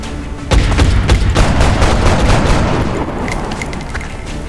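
An enemy alien in the video game XCOM Enemy Within fires at the player, a loud, dense, continuous burst of weapon fire with a booming onset that rumbles on for several seconds.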